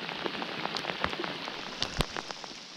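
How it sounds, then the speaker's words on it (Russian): Rain falls on a small river at a forest stream mouth during fishing, a close patter of distinct drops striking the surface over a soft steady hiss, with a few louder splats. "Вот и дождичек проходит."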